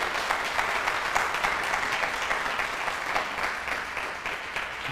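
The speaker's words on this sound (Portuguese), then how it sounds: "Dá um aplauso por essas pessoas aí" An audience applauds throughout, a dense sustained wash of many hands clapping at fairly even volume, tapering slightly toward the end of about five seconds.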